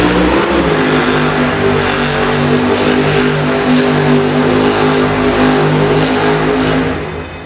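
A monster truck engine roars and revs loudly throughout a donut in an arena show, a sustained throaty drone with shifting pitch that eases off slightly at the end.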